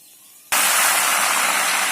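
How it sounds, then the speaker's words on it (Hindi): Sprouted whole moong hits hot oil for a protein nimko snack, bursting into a loud, sudden frying hiss after a quiet moment and then sizzling steadily. "अब हम फ्राई कर रहे हैं स्प्राउटेड मूंग, साबुत मूंग।"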